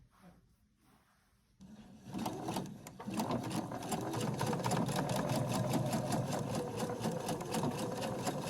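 After a quiet start, a sewing machine starts up and runs a steady, fast rattling stitch along a pocket seam sewn parallel to the side of a dress, close and continuous.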